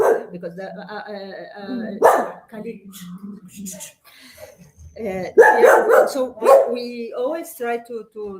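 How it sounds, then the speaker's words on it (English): A dog barks and whimpers in the background of an indoor talk, with several sharp yips breaking over a man's steady speech at moderate loudness. "I'm sorry for the dog."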